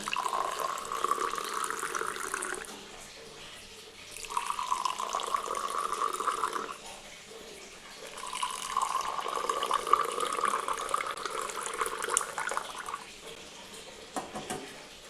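Butterfly pea flower tea being strained, the water pouring in a steady trickling stream that swells and eases in several long spells, close by with no voices.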